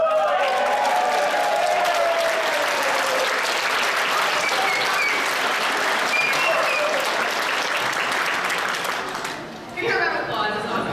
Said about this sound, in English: you're all to get up and give him a standing ovation